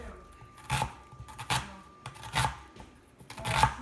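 A knife chops onion, tomato and avocado into small squares on a board, giving a handful of close, crisp cuts in an uneven rhythm.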